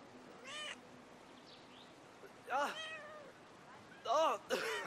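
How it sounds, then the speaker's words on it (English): A cat in the video game Brothers: A Tale of Two Sons meows three times, clear and fairly close, with short pauses between calls over a quiet hiss. "it's a kitty!"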